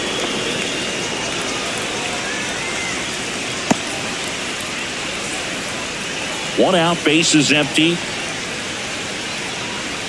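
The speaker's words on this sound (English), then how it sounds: "This rain is not letting up." Steady rain hiss over a baseball stadium in MLB The Show 25, constant and broadband, with a commentator's voice and a brief announcer line partway through.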